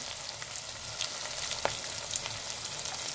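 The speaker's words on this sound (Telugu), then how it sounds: "ఇది ఫ్రై కానీ బాగా." Green chillies and turmeric frying in a pan give a steady, dense sizzle throughout, close and even, with a faint stir or clink partway through.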